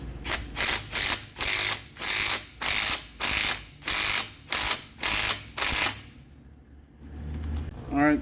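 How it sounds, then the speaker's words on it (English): A ratchet wrench loosens nuts on a big block engine, clicking out about ten quick, even bursts up close, then falling to a quiet pause. "What I'm gonna do is take these nuts right here off."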